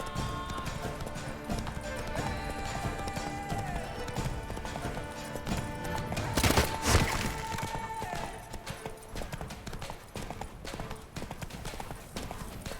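Roach, a horse in The Witcher 3, galloping with steady rhythmic clip-clop hoofbeats near and clear, a whinny and a crash in the middle, over faint talk.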